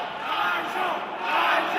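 A wrestling crowd cheering and roaring in an arena after a kick-out, a loud sustained wash of voices that swells steadily throughout.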